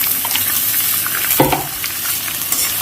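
Chopped onions frying on low flame in a pan for mutton kosha, a steady dense sizzle with a brief stir or clatter partway through and no voices.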